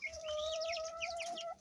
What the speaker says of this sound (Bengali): মুরগিটা অবশ্য কম ডাকাডাকি করে, কিন্তু মোরগে ডাকাডাকি করে বেশি।